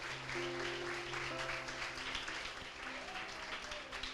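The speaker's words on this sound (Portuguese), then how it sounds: "Vamos aplaudir o Senhor Jesus." A church congregation applauds steadily during a worship service, the clapping dense and sustained across the room while sustained musical tones hold underneath.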